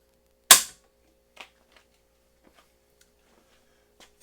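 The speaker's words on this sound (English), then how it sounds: "So this trigger is breaking right about 4 pounds, and it breaks very nicely." A rifle trigger breaks during a trigger pull weight test, one sharp, loud snap near the start, then a few faint clicks and small ticks in an otherwise quiet room.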